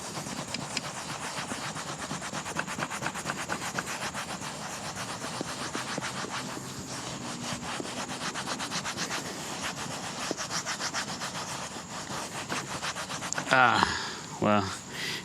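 Steady, close, rhythmic scrubbing on a painted trailer deck board, with rapid rasping strokes that continue throughout before a louder scrape near the end.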